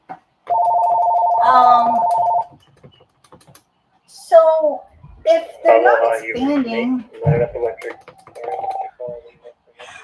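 A landline telephone ringer trills in one sustained electronic burst of about two seconds indoors, fairly loud, followed by someone talking.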